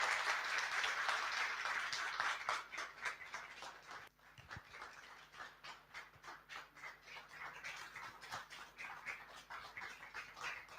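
A crowd claps, dense applause at first that thins into scattered, rhythmic clapping, moderately distant.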